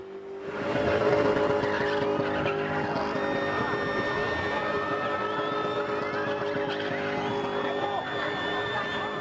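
A car spinning in a mechanical rodeo in South Africa, its tires skidding and squealing steadily over a roaring engine for several seconds, loud and continuous with a dense, noisy crowd-like backdrop.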